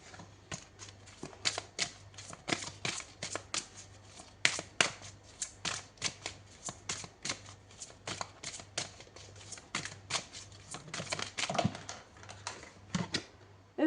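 Tarot cards are shuffled and drawn at close range in a quick run of crisp riffling clicks and flicks with short pauses, faint and dry, no voices.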